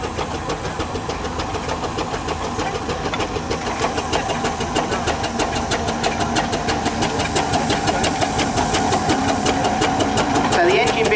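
A full-size steam traction engine chuffs in an arena at a country show with a steady, close, rhythmic beat that gradually speeds up and grows louder, and people talk over it.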